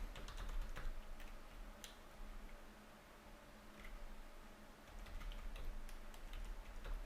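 Typing an email address and password into a computer keyboard during a Windows software setup: faint, scattered key taps over a steady low room hum, quiet and slightly distant, with no voices.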